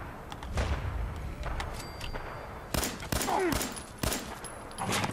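Gunfire in Fallout 4 sounds as scattered sharp shots, some single and some in short bursts, fairly loud against a busy game background, with gaps between the volleys.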